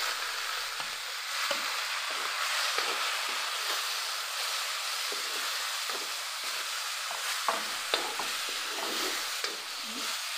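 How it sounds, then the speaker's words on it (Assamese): Meat stir-frying in a wok, a steady, bright, hissing sizzle with intermittent stirring scrapes, heard close and without any talk. "মাংস এয়া কেৰাহীত দিছে।"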